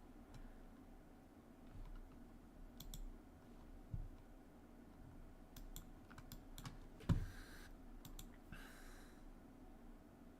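Someone types on a clicky computer keyboard, producing faint, scattered key clicks and taps over a low hum of room and computer noise, with one sharper knock near the middle.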